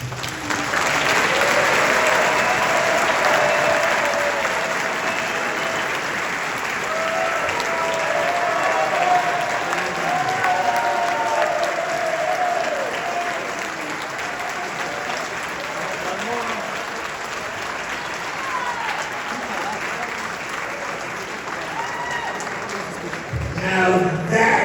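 A Hall of Fame audience gives boxer Vinny Paz sustained, loud applause from a large crowd, a dense wash of clapping that swells and holds for the whole stretch, with some cheering mixed in.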